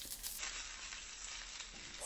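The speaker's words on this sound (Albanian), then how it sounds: "Specat nuk do t'i skuqim shumë, do t'i skuqim shumë pak" Red peppers frying in olive oil give off a steady, close sizzle that holds evenly for about two seconds, with no voices over it.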